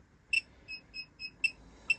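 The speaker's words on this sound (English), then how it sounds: "So it automatically begins to beep up and tell you that something's wrong" An electronic hazard warning beep from a Conqueror 645 caravan's onboard tank system repeats at a steady rhythm, six clear high-pitched tones over a faint background hiss.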